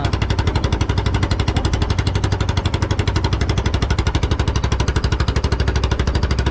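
A motor engine runs loudly close by, a steady rapid pulsing throb with a knocking, hammer-like rhythm that holds unbroken for several seconds with no talk over it.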